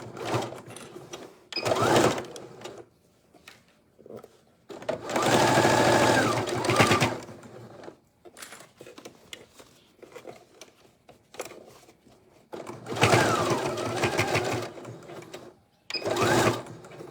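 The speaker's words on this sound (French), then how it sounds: "Vous faites toujours vos points d'arrêt au début et à la fin de la couture." Sewing machine stitching the seams of a boho bag, running in several bursts of a few seconds each with short pauses between, close and clear.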